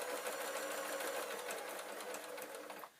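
A sewing machine stitches jelly roll strips together for a log cabin quilt, running as a steady, close, continuous whir for about three seconds before stopping abruptly.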